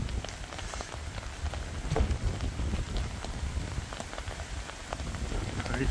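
Steady summer rain patters densely on surfaces outdoors near Gedser, Denmark, a continuous close wash of drops with low rumbling underneath.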